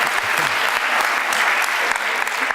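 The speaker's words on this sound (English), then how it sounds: "let's give her a little round of applause" A burst of steady clapping from a small group, close by and continuous, with no voices over it.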